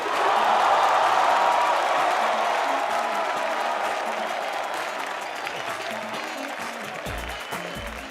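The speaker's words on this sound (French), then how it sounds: "Mesdames et messieurs, faites beaucoup d'applaudissements pour Décoté et Amélie." Dense audience applause and cheering at a comedy show, a loud sustained roar of clapping that gradually eases off toward the end.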